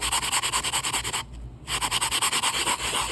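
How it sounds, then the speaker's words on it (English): Soapstone being sanded with coarse 80 grit sandpaper, heard as loud, close, rapid back-and-forth scratchy rubbing strokes with one short pause partway through, no talking. "And this is a heavy grit sandpaper."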